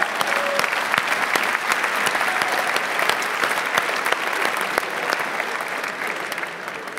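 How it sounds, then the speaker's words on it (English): A live-event crowd at a Get in the Ring Netherlands stage show gives a round of applause to welcome a royal guest, producing a full, continuous roar of clapping with sharper individual claps popping out and a slight fade near the end. "Big round of applause, please."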